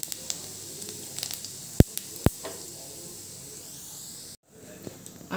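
Cumin seeds hitting hot oil in a kadhai, giving a soft steady sizzle with a few sharp clicks and taps, faint and close, cutting out briefly near the end.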